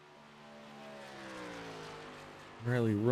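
A race truck in an iRacing truck series event at Indianapolis runs a qualifying lap with a sustained engine whine that climbs slowly in pitch, and a commentator's voice breaks in near the end.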